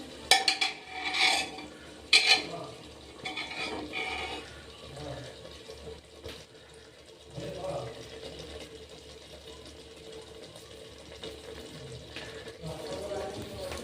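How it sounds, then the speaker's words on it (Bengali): Mutton being stirred with salt in a pot over a low gas flame, with scraping and clinking of a spoon against metal, sharper knocks near the start and steadier stirring after. "ভালো করে মিশিয়ে নেব, লবণটা দিয়ে ভালো করে কষে নেব গ্যাসটা সিমে রেখে"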